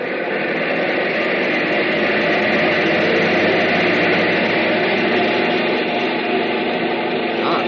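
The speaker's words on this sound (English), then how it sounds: "Bring number 1 engine up to maximum RPM." An aircraft engine on a test block running at maximum RPM gives a loud, steady, unbroken roar that stays constant throughout, with no voices.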